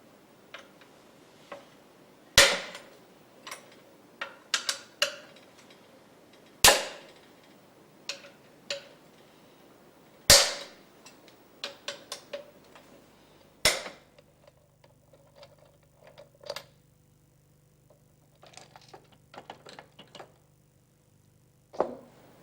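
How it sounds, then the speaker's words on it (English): The support roller cover of a Husqvarna ring saw is removed: a series of sharp metallic clicks, knocks and clanks, some loud and close, spaced irregularly against an otherwise quiet background. "Turn the knob to the service position and remove the support roller cover."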